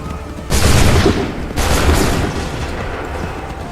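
A loud massed musket volley in Assassin's Creed III crashes out, followed a second later by a second ragged volley, each roaring and rumbling before fading into smoky echo.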